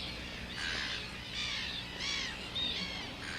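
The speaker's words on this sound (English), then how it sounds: "Here in Argentina, brown-hooded gulls are nesting." Brown-hooded gulls call at a nesting colony in Argentina, with several harsh, faint cawing calls repeating at irregular intervals over soft background noise.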